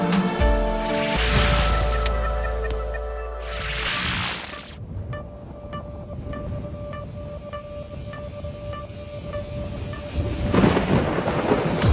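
Thunder rolls through a thunderstorm, with a loud crashing peal early on, a second burst, then fainter rumbling and rain before another swell near the end; no voices.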